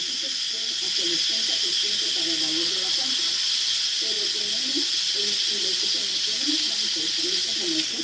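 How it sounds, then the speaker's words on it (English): A pressure cooker with onions and garlic slowly releases steam in a loud, steady hiss with faint snapping, while someone talks over it. "you can kind of hear the pressure slowly coming down. You can hear it kind of snapping a little bit"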